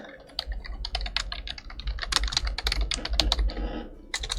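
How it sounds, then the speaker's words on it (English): Rapid, loud typing on a computer keyboard placed close to the microphone, with a steady irregular clatter of keystrokes and no speech throughout. "And I type way too loud."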